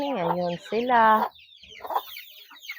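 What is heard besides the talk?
chickens clucking on a farm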